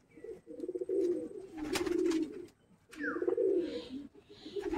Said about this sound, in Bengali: এটা হচ্ছে মাদি পায়রা, এটাও ধাড়ি হয়ে গেছে।